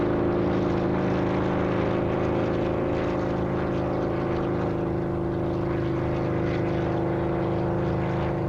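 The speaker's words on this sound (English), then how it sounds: "Heading a great fly-past came Dragonfly helicopters." Dragonfly helicopters in a naval fly-past at the 1953 Spithead coronation review give a loud, steady droning engine hum with strong tonal whine, continuous throughout without voices.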